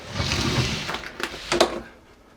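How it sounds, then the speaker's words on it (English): A cabin door on a Stratos DB50 boat swings shut at a boat show. Soft knocks and a brief latch click sound over a faint murmur of show noise, then everything quietens. "let me close that door and just hear how quiet it becomes"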